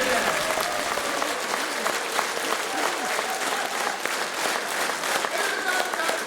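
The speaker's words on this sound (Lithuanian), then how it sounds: "Jūsų aplodismentai" Steady, full applause from a seated audience at a winter concert, dense clapping filling the hall evenly for several seconds with a faint murmur of the crowd underneath.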